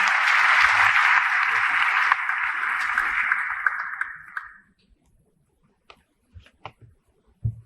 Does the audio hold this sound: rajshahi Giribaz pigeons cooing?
no